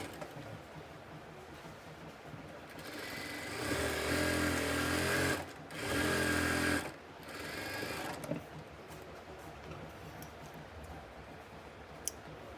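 A sewing machine stitches kameez fabric, whirring in two strong bursts, a longer run and then a shorter one, followed by a softer stretch of stitching. Quiet room noise lies before and after.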